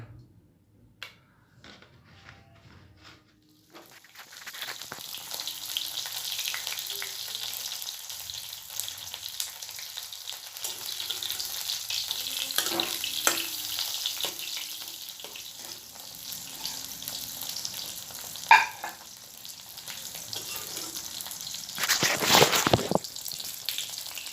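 Fish fries in hot oil for a rohi fish and potato curry, a steady close sizzle that starts after a few quiet seconds and continues with occasional clatters and a louder burst near the end, with no talk.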